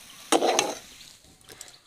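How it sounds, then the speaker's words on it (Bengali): Semolina stirred in a cooking pan, a short burst of scraping and sizzling near the start, then faint clinks and rustles as it settles. "এই সুজিটা দেওয়ার পর এই যে নেড়ে চেড়ে আবার একটু চাপা দিয়ে দেবো"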